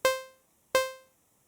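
Two identical synth notes with zero sustain and a very quick decay, each struck sharply and fading to silence within about 400 milliseconds, clean and isolated with a bright harmonic tone.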